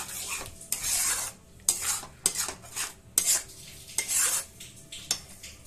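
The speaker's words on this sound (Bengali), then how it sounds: "যতক্ষণ না তেল ছাড়ে এটাকে আমার কনস্ট্যান্ট নাড়তে থাকবো" Potatoes for a vegetarian aloo dum stirred constantly in oil, a series of close, sharp scrapes and clinks of a spoon against the pot every half second or so over a faint sizzle.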